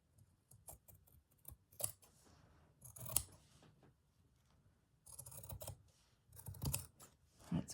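Scissors snipping through an embroidery journal page with short crisp metallic cuts in scattered bursts, close and fairly quiet, alone without talk.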